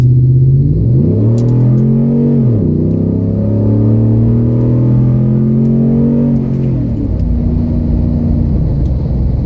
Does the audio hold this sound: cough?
no